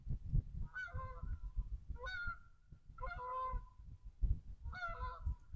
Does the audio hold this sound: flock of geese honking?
yes